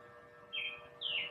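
Two sharp, bright chirps from birds outside, the second slightly louder, over a soft steady hum of distant traffic, with no voices.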